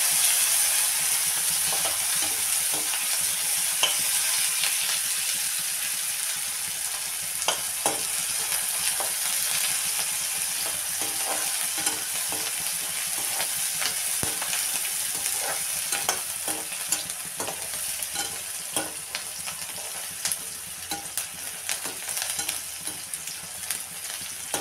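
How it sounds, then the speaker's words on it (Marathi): Chopped onion sautés in oil until golden, a steady dense sizzle with frequent small crackles and occasional stirring scrapes, close and continuous throughout with no voices. "आता कांदा सोनेरी होईपर्यंत चांगला परतून घ्यायचा"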